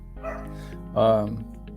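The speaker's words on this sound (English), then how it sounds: "My dog is acting crazy. I don't know if you hear him." An excited pet dog indoors lets out two close, high-pitched yelping barks, the second louder and longer, against a quiet room.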